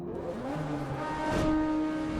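A Mazda RX-8 engine in a car racing video game, holding a steady whine as it revs up through gears at the race start, continuous and fairly loud with a rising pitch and no talk.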